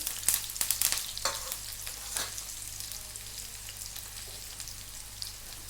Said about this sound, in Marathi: आपलं तेल तपलं. त्याला सुरुवातीला कांदा टाकून घेते.